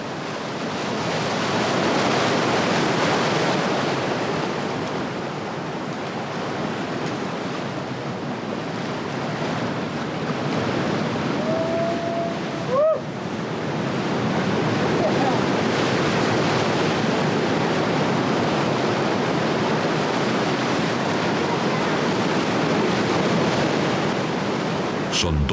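Ocean surf breaks and churns against a rocky shore in a continuous loud roar, with wind buffeting the microphone and no clear pauses between waves.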